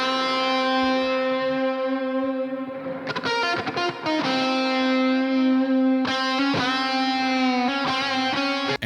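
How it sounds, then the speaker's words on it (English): Low-gain electric guitar solo through an Archetype Gojira amplifier with a boost, melodic sustained notes broken by quick picked runs and bends, loud and upfront with no talking. "This is the low gain solo."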